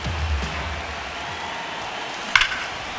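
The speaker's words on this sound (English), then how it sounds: "crowd getting settled here at Dodger Stadium" A low, steady crowd murmur at Dodger Stadium in MLB The Show, faint and distant, with a single sharp crack near the end.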